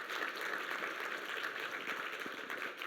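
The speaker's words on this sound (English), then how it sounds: "Let's give them a big round of applause." An audience applauds panelists at a humanitarian policy forum on hunger hotspots, a dense, steady wash of clapping from a mid-sized crowd, moderately distant and consistent throughout with no voices standing out.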